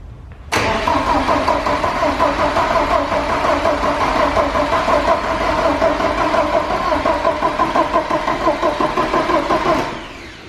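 Porsche 944 race car engine cranked with starting fluid, a loud, close starter-motor churn running rhythmically for about nine seconds without firing before cutting off.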